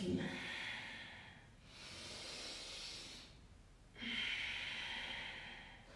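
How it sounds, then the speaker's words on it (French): During a vinyasa yoga class, close breathing sounds come and go: a long, airy exhale, a pause, another breath, then a second hissing exhale. "Et on expire."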